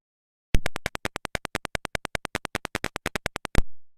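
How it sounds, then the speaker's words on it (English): Simulated short-circuit buzzer in Tinkercad, heard as a rapid, evenly spaced train of sharp electronic beeps lasting about three seconds, clean and alone with no talking. "This is the sound of a short circuit."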